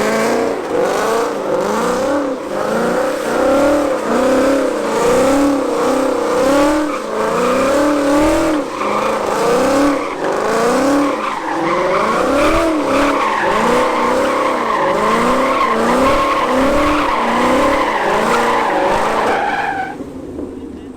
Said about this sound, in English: We're gonna have him do donuts around us